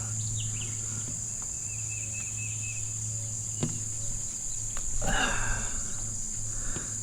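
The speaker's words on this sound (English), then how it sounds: "Getting swamped by bugs up here." Outdoor insects keep up a constant high-pitched buzzing and chirring, with a few faint bird chirps and light rustling nearby and no one talking.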